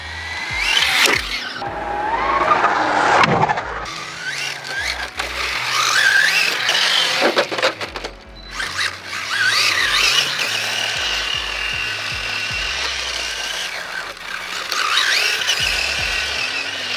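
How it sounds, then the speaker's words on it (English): A Kyosho Fazer Mk2 R/C car with a supercharged 1970 Dodge Charger body whines at wide-open throttle through big donuts, its high motor scream and squealing tires rising and falling in loud, continuous bursts with brief lulls. "That was a lot of just wide open throttle right there doing these big donuts."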